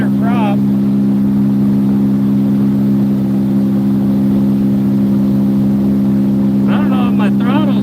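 A small electric motor drives a speed boat at roughly 25 to 30 mph, giving a loud, steady hum and rushing water noise throughout, with a person talking over it near the start and end.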